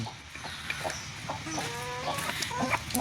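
Young hens cluck near at hand in the evening, with scattered short calls and a longer, drawn-out cluck in the middle.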